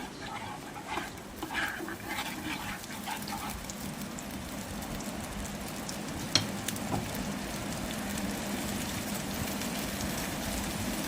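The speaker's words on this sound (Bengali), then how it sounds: "মশলা আমি ভালো করে তেলের সঙ্গে মিলিয়ে নিচ্ছি" Spices sizzle in hot oil after a splash of water, in a dense, steady crackling hiss with a sharper pop midway and no one speaking.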